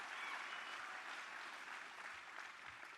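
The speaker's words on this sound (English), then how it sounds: "Give James a round of applause." A rally crowd in Eau Claire, Wisconsin claps steadily for a state assembly candidate, a dense, even wash of applause lasting the whole stretch without fading.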